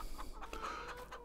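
Hens clucking and cackling in a coop in Farming Simulator 22 with its Premium Expansion, a soft, steady stream of bird calls in the background with no speech.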